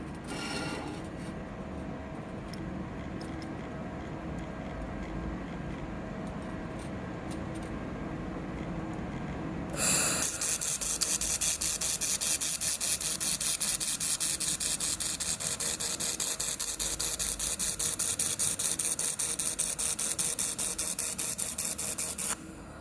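A 2000 W laser welder with dual wire feeder working 1/4 inch aluminum: a low mechanical drone with faint clicks, then a sudden switch to a loud, harsh, steady hiss that runs until the end.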